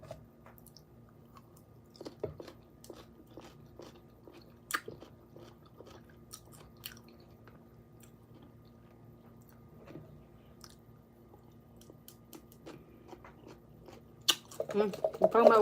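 Crunchy cucumber salad and carrots being chewed near the mic, soft intermittent bites and crunches at a quiet level, with talking in between and a louder burst of crunching at the end.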